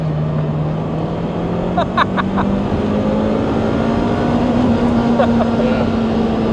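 A Lotus Elise engine pulls hard in second gear toward the red line: a steady, loud drone that climbs slowly in pitch throughout. A voice speaks briefly over it.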